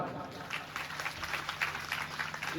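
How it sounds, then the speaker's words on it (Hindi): Faint, scattered audience clapping at a Ram Katha religious gathering, irregular and thin beneath a steady background hum. "दोनों बेटियों नाम पर ताली बजाओ"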